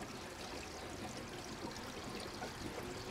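Water leaking from a 55 gallon drum rain barrel in a rain harvesting setup, a faint, steady trickling pour running unbroken throughout.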